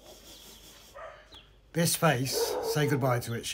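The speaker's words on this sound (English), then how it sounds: "Excuse the dog barking. She's saying hello to somebody." A dog barks in short bursts in a home garden near a patio, loud and close, mixed in with a person talking.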